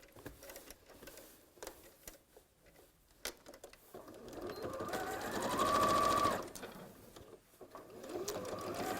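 A sewing machine stitches along the edge of a fabric Christmas make, its motor whirring in a steady buzzing run mid-clip after quieter handling noises, close and fairly loud.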